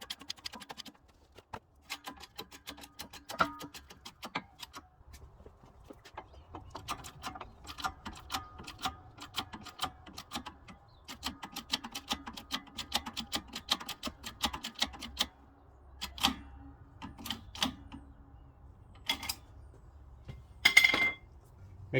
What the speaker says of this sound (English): So you have to press the rotor out from the bearing.